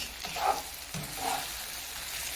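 Chicken gizzards fry in a pan with a soft, steady sizzle, with a couple of brief stirring scrapes near the start and middle.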